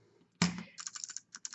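Kailh low-profile keyboard switches are pressed on a prototype tester: one loud, close clack, followed by a quick run of lighter clicky presses, with a short pause before the last few.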